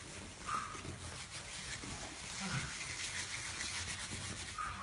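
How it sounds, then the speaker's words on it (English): Continuous soft scratching and rubbing on a tortoise's back shell, close and steady with slight rises in intensity, faint and without pauses. "I'm scratching Teddy's back"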